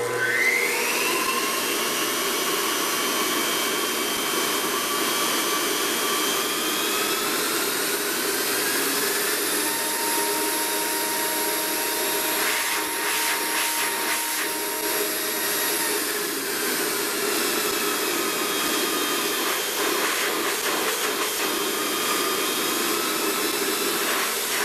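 An Ametek Lamb vac blower motor driven by an SCR thyristor speed control runs at about a third speed, a steady close whine and airy rush whose pitch drifts slightly as the speed is varied, with no talk.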